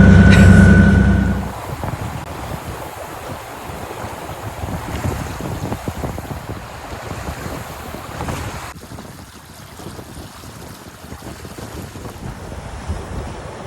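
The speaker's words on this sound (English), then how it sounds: "Sailing into Blunden Harbor after a long afternoon run past Cape Caution from the north coast." A sailboat sailing into Blunden Harbor after an afternoon run past Cape Caution, with steady wind rush and the wash of water along the hull, loud and continuous after a brief burst of heavy microphone buffeting at the start.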